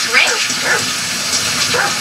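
A dog barks a few times in Grand Theft Auto V, short yips during a chase scene, partly masked by someone talking over game sound.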